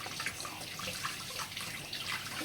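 Tap water runs steadily from a kitchen faucet as hands are washed during scone baking, a continuous close hiss and splash with no talking.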